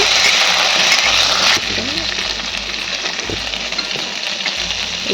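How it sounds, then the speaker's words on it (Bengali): Vegetables for Bengali shukto sizzle loudly in a pan for about a second and a half before the hiss cuts away, leaving a quieter background while a person talks throughout. "সবজিগুলো আমার এদিকে ভাজা হয়ে গেছে"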